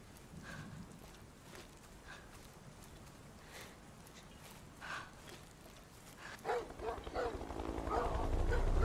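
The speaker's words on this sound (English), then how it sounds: "Well, they got the dogs on us." Dogs in the video game Beyond: Two Souls giving repeated barks and yips at a moderate distance, growing louder and more frantic toward the end over a low background rumble.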